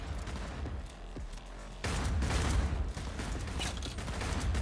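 Gunfire in the video game Cyberpunk 2077 erupts as a dense burst of rapid shots and mechanical clatter, getting louder partway through and continuing as sustained volleys.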